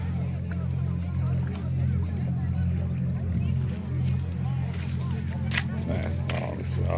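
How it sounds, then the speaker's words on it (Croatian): A fast boat out at sea off the Adriatic coast near Zadar gives a steady, low droning engine hum that holds evenly throughout, with faint voices in the background. "Vidim da dolazi ovaj brzi brod iz smjera Zadar"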